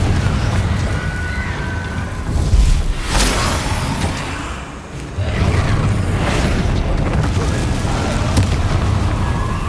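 Confringo and Bombarda spell blasts in Hogwarts Legacy combat, a run of heavy booming bursts with whooshes over a dense, continuous game soundscape, one strong impact standing out midway.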